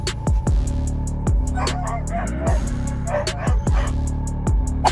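Dogs fighting wolves, with yips, whimpers and snarling barks amid a scuffle, overlaid by loud repeated rhythmic thumps and dense background noise throughout.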